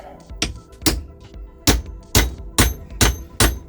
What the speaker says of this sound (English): I'm going to hammer this socket on here and hope it grips